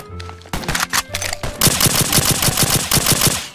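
Rapid automatic gunfire from a tactical M4A1 rifle in a Minecraft PE weapons addon, loud and close, starting with a few short bursts and then a sustained fast stream of shots.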